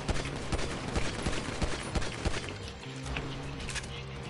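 Gunfire in a video game, a rapid run of sharp shots and cracks repeating over a dense, noisy background of game sound, fairly loud, with more scattered shots toward the end.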